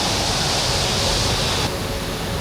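Iguazu Falls thunders in a constant, loud, hissing roar of falling water, unbroken from start to finish.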